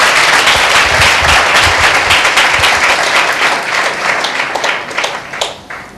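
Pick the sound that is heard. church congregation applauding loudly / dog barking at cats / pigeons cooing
church congregation applauding loudly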